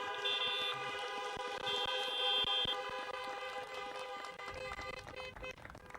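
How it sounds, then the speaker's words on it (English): Several car horns honking together at an outdoor graduation ceremony, sustained overlapping tones with sharp short toots mixed in, fairly close and continuous before tapering off. "Will all family members of the graduates please wave, or better yet, vigorously honk to be recognized?"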